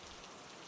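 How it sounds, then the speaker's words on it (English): Rain falls on the stones of the ancient Roman Forum as a steady, dense, even patter with no other sounds. "the steady patter of the rain begins to change its pitch"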